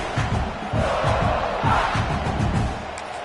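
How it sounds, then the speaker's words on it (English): A packed stadium crowd at a football game roars continuously, a loud dense swell of voices that surges and holds, with a commentator's voice faintly underneath. "Listen to this crowd just shaking the girders of this place, trying to help their defense."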